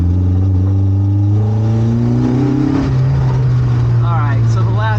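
Honda VTEC engine swapped into a classic Mini Cooper, heard close and loud with a strong steady engine drone whose pitch climbs and shifts, while someone talks over it.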